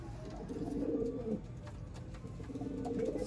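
Sialkoti pigeons coo close by in low, rolling, throaty phrases, two clear bouts of cooing over a faint background hum.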